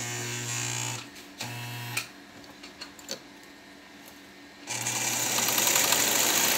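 A Vigorelli sewing machine runs in short bursts of rapid, steady whirring stitching, pausing twice with clicks and handling noises in between before a longer, louder run starts up near the end.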